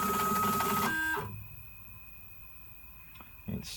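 DIY CNC machine axis driven by a chain, a whining motor hum and rattle for about a second before stopping, then a faint tonal hum and a small clunk near the end.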